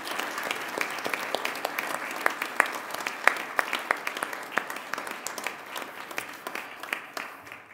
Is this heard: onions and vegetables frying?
no